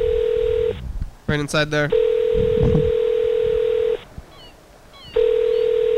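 A phone dialing a call: a loud steady dial tone is broken by a quick run of keypad tones, then resumes. People talk briefly over it before a pause and the tone returns.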